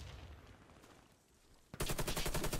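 AK-47 gunfire in the video game Warface: after a quiet stretch of low background noise, a loud, sustained automatic burst of rapid, evenly spaced shots fills the last second, close and sharp.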